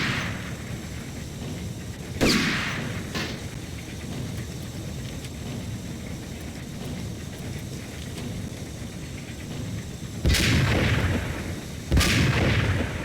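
Gunfire in the video game Apocalypse Cop, a few loud sharp booming shots spaced seconds apart over a constant noisy game background, with no talk.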